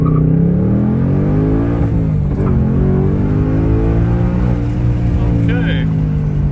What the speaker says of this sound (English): I'm going to try this launch control.